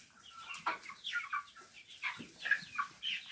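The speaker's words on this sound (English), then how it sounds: "keeping chickens for eggs" Chickens kept for eggs on a small village poultry farm cluck in short, irregular bursts, several birds overlapping at moderate distance with no voices.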